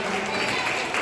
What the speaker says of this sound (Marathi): जोरदार टाळ्या शिवानीसाठी